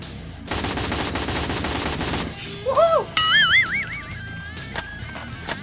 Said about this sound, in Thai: อุ้ยยิงเร็วมากเดี๋ยวยิงให้ดู